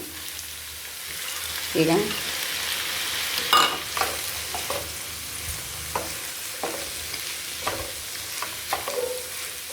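Moong dal is stirred into a frying pan for a vegetable palya, with close scraping strokes of a spoon over a soft, steady sizzle. A voice briefly speaks over it.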